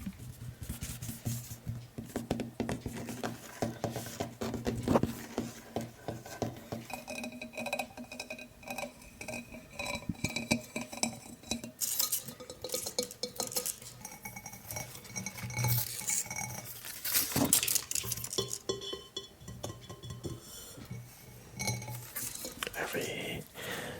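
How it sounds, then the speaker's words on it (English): Plant pots and flower pots being tapped inside a student house, giving a run of irregular clinks and knocks of differing pitch, close and fairly soft, with steady low background hum. "Every flower pot or every plant pot makes its own sound"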